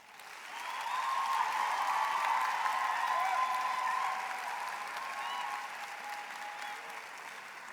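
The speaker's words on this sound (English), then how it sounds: "I would now like to ask our graduates to applaud their families, friends, partners, and spouses for their support over the years" Graduates at a Faculty of Education graduation ceremony applaud their families, a soft, distant swell of clapping that rises, holds for a few seconds, then slowly tapers, with a faint tonal hum beneath.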